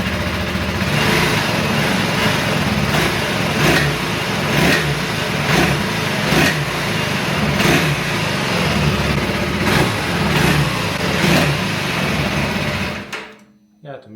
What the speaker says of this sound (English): turn this bike on, rev it, and see how you feel about this now without the upgrades